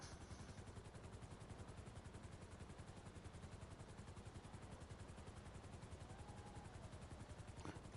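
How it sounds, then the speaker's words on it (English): Helicopter in GTA V: a steady, rapid rotor chop with engine drone, faint and continuous throughout. "Whose helicopter do I hear?"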